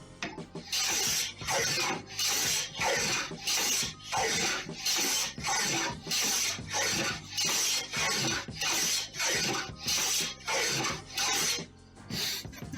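Steady back-and-forth strokes of a blade shaving wood from a guitar neck, each pass a close, rasping scrape in a regular rhythm of about a dozen strokes with short pauses between, no talking.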